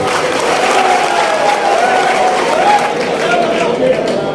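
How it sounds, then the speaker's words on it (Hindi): Crowd applause at a political rally in Malegaon's Habeeb Lawns, a continuous wash of clapping that holds steady throughout while a voice carries on over it. "तालियां बजाइए उनके लिए"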